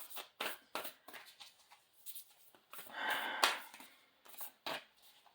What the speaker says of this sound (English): I'm just giving these cards an extra shuffle because I haven't used them in so long